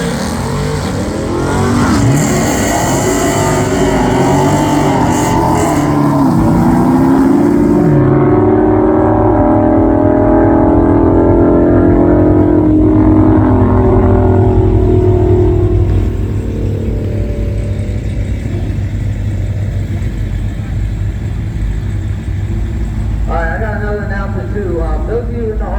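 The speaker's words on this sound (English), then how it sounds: "Oh, we got a Ram TRX coming up." Ram TRX pickup truck rumbling and revving at a Mopar racing day drag strip, a loud sustained engine roar that swells and fades over about fifteen seconds, with crowd chatter and talk running underneath.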